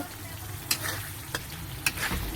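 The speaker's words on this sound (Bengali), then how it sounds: "মশলাটাকে ভালো করে ভাজবো" Spices frying with potatoes in a pan, a steady sizzle under occasional scraping stirs of a spoon, close and continuous without voices.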